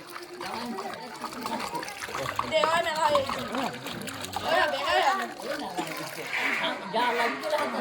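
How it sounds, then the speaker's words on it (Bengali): A metal plate splashing and sloshing in a basin of water, with irregular watery splatters throughout, heard under a child's and adults' overlapping talk. "পুকুরের জলের বদলে গামলায় জল দিয়ে থালাটা হারাবে আর খুঁজে বের করবে।"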